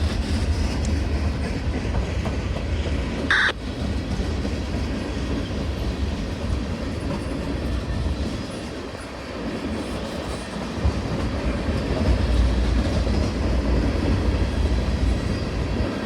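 Freight cars of a long mixed train roll steadily past on a secondary main line, including a maintenance-of-way gondola, with continuous rumbling wheel noise and faint clickety-clack, a brief sharp squeal near the start.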